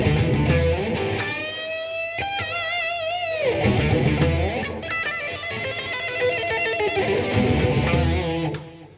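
A fast blues lick on electric guitar in a slightly overdriven tone runs through quick bends and rapid note runs over a bass backing, with busy, continuous phrases for about nine seconds, alone without talking.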